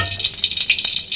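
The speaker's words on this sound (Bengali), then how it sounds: "মাছ ভাজি হবে, পুকুরের রুই মাছ।" Rohu pond fish sizzling in hot oil in a pan, a steady close crackle and hiss with small pops throughout, no talking.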